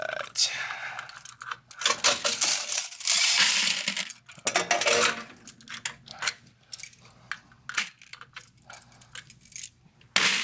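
Quarters pouring and clattering out of a laundromat machine into a bucket, a busy metallic jingle of many coins in bursts with mechanical clicks and key jangles, loud and close, with brief speech in places.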